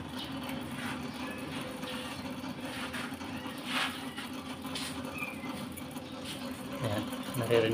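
A machine charging up a pressure gauge, during a check of a worn leather cap, whirs and rattles at a steady rhythm, fairly faint, with occasional louder bursts and some background talk.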